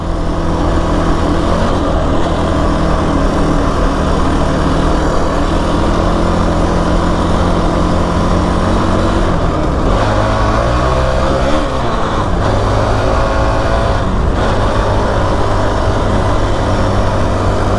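A Kawasaki KFX 450R quad on a shakedown ride after a light refurbishment, its engine droning loud and close throughout, revving up and down as it shifts through gears with brief dips between.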